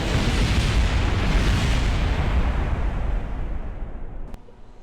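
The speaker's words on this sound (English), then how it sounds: "it's time for liftoff, and we ditch the ladder" A lander's rocket engine roars at liftoff in Kerbal Space Program on Eve, a loud, dense broadband rumble that holds steady, then fades and cuts off near the end.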